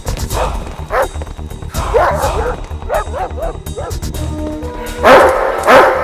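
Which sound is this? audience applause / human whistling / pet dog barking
pet dog barking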